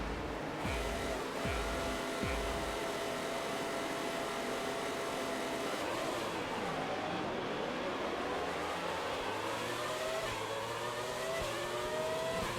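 Racing car engines from the F1 2020 game in cockpit view, a steady high-pitched engine whine with rising and falling revs as the car accelerates and shifts, with a few low thumps near the start.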